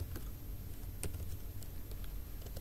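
Light, quiet keystrokes on a computer keyboard while entering times into an Excel spreadsheet, a sparse uneven patter of taps with no talking.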